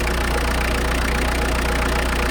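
A vehicle engine idles steadily and loudly throughout, a continuous low rumble with no voices, at a farm campsite near Whitby in Yorkshire.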